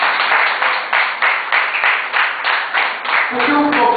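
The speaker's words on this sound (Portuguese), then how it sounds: "Pode aplaudir o Senhor." A church congregation claps in steady, rhythmic unison, about two beats per second, loud and close, with a voice starting to speak over it near the end.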